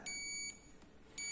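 A multimeter beeps while a capacitor is probed on an LED LCD TV board: one steady electronic tone lasting about half a second, a pause, then a second tone starting, clear and close with no talk.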